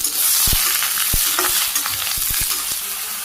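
Vegetables with turmeric, cumin and ginger stir-fried in a pan, a loud continuous sizzle with quick scraping stirs and spatula taps close by.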